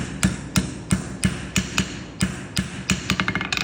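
A hammer strikes a horseshoe on an anvil while forging an extended heel, a dozen sharp ringing metallic blows in a steady rhythm with a quicker flurry of lighter taps at the end.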